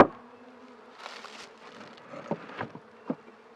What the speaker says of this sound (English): There's a few bees still in this box